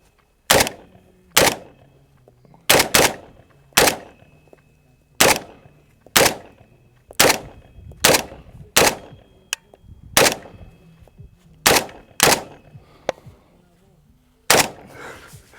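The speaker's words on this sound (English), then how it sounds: "We'll do some more shooting" A Palmetto State Armory AK47 rifle fires about sixteen sharp, loud single shots at an irregular, fairly quick pace, each with a short echoing tail, outdoors with no talking between shots.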